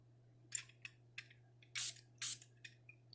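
Two short, bright hisses of Chanel No5 perfume sprayed from an atomizer, close and distinct, set among soft clicks and handling taps against a quiet background hum.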